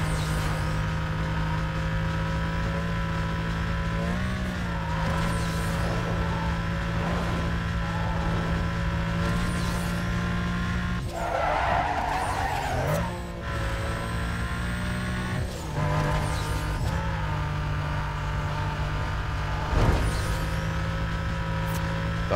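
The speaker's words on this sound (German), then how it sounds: "Dann haben wir einen Grund, mal den neuen Mustang zu fahren." A Ford Mustang GT in the racing game Need for Speed Most Wanted holds a steady loud engine drone with shifting pitch, a brief rough tire-scrub burst midway and occasional whooshes of passing traffic.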